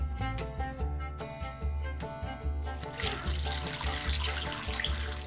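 Water poured from a container into a roaster holding turkey broth for canning, a steady splashing stream that grows fuller and brighter toward the end, heard alone and close over a background of music.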